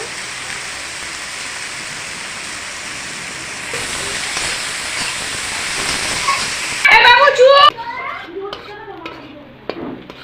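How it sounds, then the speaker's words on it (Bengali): Chopped onions fry with salt in a pan for mutton curry, a steady close hiss and crackle with occasional stirring, then a brief voice and clattering toward the end. "পেঁয়াজটাকে ভাজা হয়ে গেছে ব্রাউন করে"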